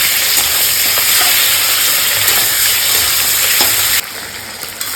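Stingray fish frying in oil, a loud, dense close-up sizzle and hiss that runs on steadily, then drops somewhat quieter near the end.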